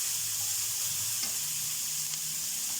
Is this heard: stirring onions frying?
yes